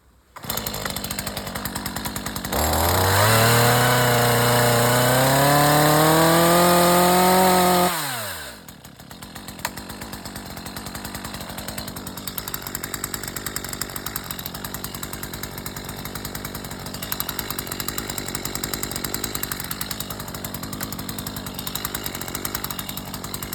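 Chainsaw making a standard felling cut from the back of a slightly forward-leaning tree, loud and close, revving up and then dropping off before a long stretch of steady idle.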